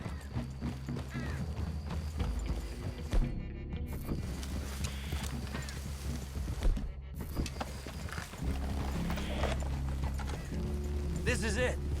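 Horses clip-clop on foot and whinny in a wooded clearing in Red Dead Redemption 2, hooves close under game music and characters speaking.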